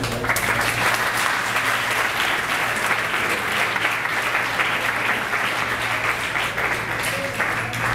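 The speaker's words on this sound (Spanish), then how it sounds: "Entonces, con ustedes, deseamos con aplauso a la doctora Linares" Sustained audience applause fills a hall welcoming a speaker at a workshop on truth, memory and history, steady and dense throughout with no break.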